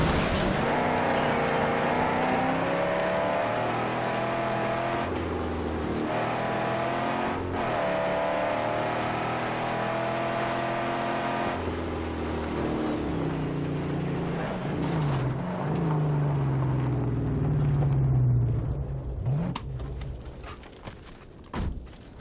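Mad Max game car engine roaring and accelerating under nitrous boost, a loud continuous revving drone with pitch sweeps, shifting gears and a few thuds near the end.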